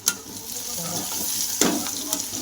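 Onion frying in hot oil, a continuous close sizzle with a few louder spatters and stirring scrapes, no talking over it.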